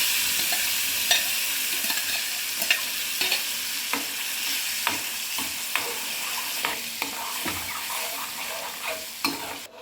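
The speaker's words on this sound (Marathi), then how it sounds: "लाल तिखट घालून छान मिक्स करायचं व नंतर आपण केलेली पेस्ट यात घालून घ्यायची" Spice paste and red chili powder are stirred in a frying pan, with a continuous sizzle broken by frequent sharp spatula scrapes and knocks at an uneven rhythm, close and fairly loud.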